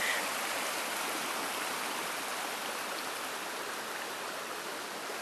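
Small New England trout brook near an old mill, flowing in a steady, dense rush of water that stays even and close throughout.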